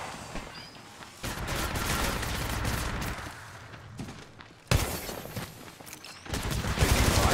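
Bursts of automatic gunfire in Apex Legends Mobile, loud and close, come in several sustained volleys broken by short lulls, with a sharp renewed barrage midway and heavy shooting again at the end.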